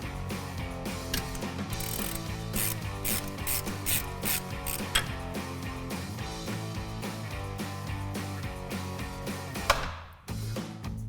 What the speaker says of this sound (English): we're going to use our 13mm socket to undo this bolt here on the brake hose and the caliper